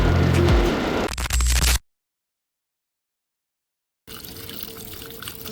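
Running water splashes loudly while fish and chicken are washed, in a short burst that cuts to silence and then resumes at a softer, steady flow.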